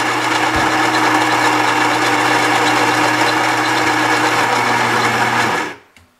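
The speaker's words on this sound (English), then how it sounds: "grinding our beans." A Gaggia Brera super-automatic espresso machine's built-in grinder whirs loudly and steadily at close range, grinding coffee beans, then winds down and cuts off near the end.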